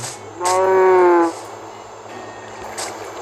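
A single loud cow moo from the Minecraft video game, on a one-block farm, rises over a low steady background hum.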